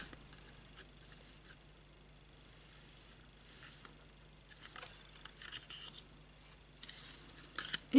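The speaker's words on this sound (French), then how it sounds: "c'est mes ciseaux exprès pour couper le scotch" Scissors snipping through adhesive tape while making a Halloween card, a few soft crisp cuts building toward the end, close and quiet with no talking.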